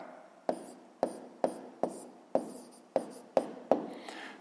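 Math being written by hand on paper or a board, heard as eight crisp, close scratchy strokes at a steady rhythm of about one every half second, each with a sharp onset and a quick fade, with no talking.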